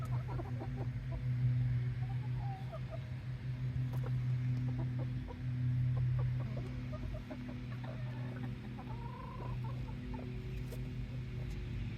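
Backyard hens scratching through mulch in a chicken run give off scattered soft clucks and short calls, fairly close, over a steady low hum that runs the whole time.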